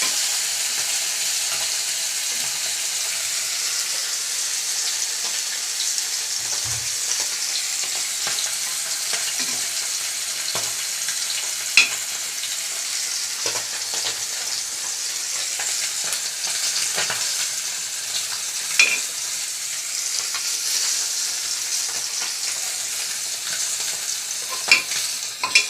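Fish frying in a pan in a home kitchen, a steady close sizzle of hot oil running throughout with occasional sharp pops and spatters, no voices.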